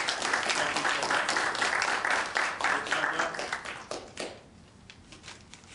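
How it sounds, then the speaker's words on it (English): An audience at an Iwo Jima ceremony applauds for Alan, a veteran supporter, with a full crisp clatter of hands that thins and fades away over the last second or two. "I want everybody to give Alan a round of applause."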